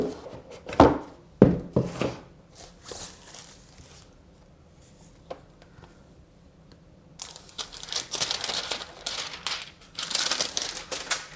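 Packaging of a VGKE Tab H30 Plus Android tablet box being opened, with scattered crinkling, crunching and tearing sounds in bursts, a quieter stretch in the middle, then denser rustling toward the end.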